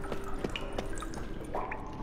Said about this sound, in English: That's the hot water again.